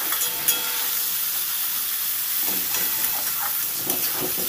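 Eggplant pieces frying in a small amount of oil in a home kitchen pan, a continuous close hiss and crackle with occasional scraping stirs, no voices.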